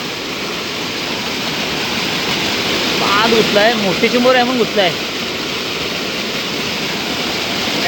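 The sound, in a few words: heavy rain pouring in the forest at night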